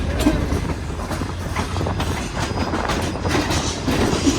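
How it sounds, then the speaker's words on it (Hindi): A train pulling out of Karachi Cantt railway station rumbles loudly and steadily, its wheels keeping up a continuous clickety-clack over the rails close by. "फाइनली ट्रेन हमारी निकल चुकी है कराची कैंट रेलवे स्टेशन से"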